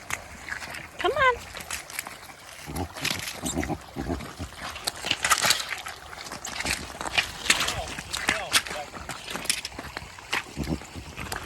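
A young foal splashes and sloshes through a creek in irregular bursts, with scattered wet slaps and a brief whinny early on, while people talk nearby.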